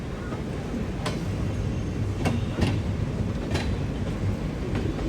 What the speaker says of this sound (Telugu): కొంకణ్ రైల్వేస్ బండి అది.